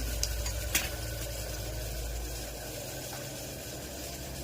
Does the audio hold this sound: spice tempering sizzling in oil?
yes